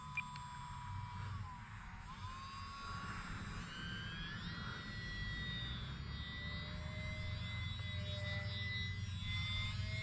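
A tiny E-flite UMX Cessna radio-controlled plane on a small 2-cell battery flies outdoors, its thin electric motor whine rising and shifting in pitch as it passes, steady and moderately distant over low wind rumble.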